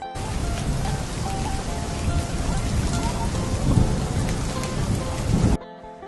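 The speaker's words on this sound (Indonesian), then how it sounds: "Angin, guntur, petir disertai hujan deras mengguyur seluruh desa Jambu." Heavy rain pours down in a dense, steady roar over a village during a thunderstorm, with wind and rumbling thunder, loud throughout before cutting off abruptly near the end.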